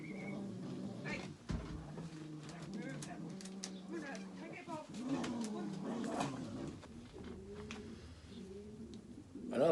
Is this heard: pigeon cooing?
yes